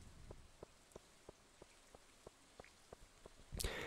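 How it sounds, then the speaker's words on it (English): Rain falling in the Stardew Valley video game, a soft steady hiss with light regular patters spaced through it, ending in a brief louder rush. "It is raining"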